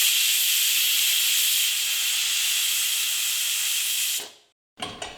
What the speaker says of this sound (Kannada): ಈಗ ಕುಕ್ಕರ್ ಲಿಡ್ನ ಕ್ಲೋಸ್ ಮಾಡಿಬಿಟ್ಟು ಒಂದೆರಡು ವಿಷಲ್ ಕೂಗಿಸ್ಕೊಳ್ತೀನಿ